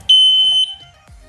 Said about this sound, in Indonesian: kalau sudah bip satu kali gitu katanya sih menurut manual bip tadi sensornya aktif sih